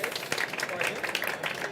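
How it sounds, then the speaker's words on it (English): Conference audience applauding to welcome speakers, dense clapping heard briefly at moderate volume with a voice speaking over it. "big round of applause to welcome the speakers"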